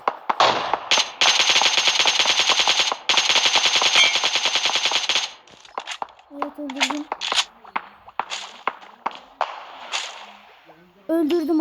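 Automatic gunfire in the battle royale game PUBG, long loud bursts of rapid shots followed by scattered single shots and shorter volleys, with someone talking excitedly over the action.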